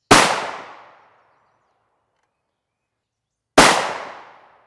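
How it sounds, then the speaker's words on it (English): Two sharp, loud rifle shots from an SSG 82 with a nearly 24-inch barrel strike an armor plate. Each crack rings out and decays over about a second, and the shots are spaced roughly three and a half seconds apart. "We'll take 2 shots on the plate with this."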